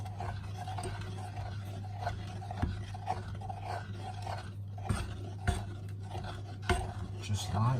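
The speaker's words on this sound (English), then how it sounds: "Stir it really, really well so that it all infuses in together." A spoon clinks and scrapes against a bowl while rhubarb bread and butter pudding mixture is stirred, with small irregular taps under a steady low hum.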